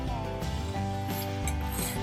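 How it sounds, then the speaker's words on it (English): A metal file rasps steadily across the steel edge of a Gränsfors Bruks small forest axe to remove a nick, giving a continuous close gritty scraping with a few stroke changes. "we'll go ahead and flip it over and get a little bit more with the file"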